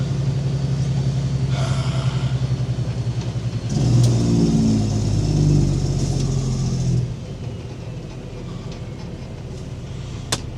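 A service truck drives along, its mid-range engine rumbling steadily, rising and revving for a few seconds in the middle before settling back to a quieter cruise. A faint tick or click comes near the end.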